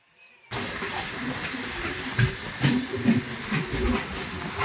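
A Jaleswar–Puri MEMU local train pulls away from platform three at Jaleswar station, a steady rumbling roar with hiss and intermittent clanks and thumps that starts abruptly after a brief quiet moment and continues loud and close.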